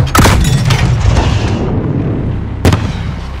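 Explosion in the Call of Duty video game: a heavy, loud blast with a rumbling tail that fades over a second, then a second sharp burst rings out near the end.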